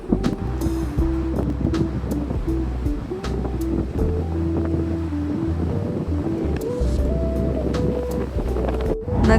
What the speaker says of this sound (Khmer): នៅខាងមុខខ្ញុំហ្នឹងគេហៅថា water wall the water wall ដែលមានទឹកធ្លាក់នៅលើជញ្ជាំងហ្នឹងហ្មង